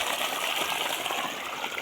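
Water gushes steadily from the outlet of a 25 horsepower electric well pump motor on a farm, a loud, continuous broadband rush with no pauses and no voices.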